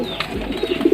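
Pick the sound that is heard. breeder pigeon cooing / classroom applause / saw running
breeder pigeon cooing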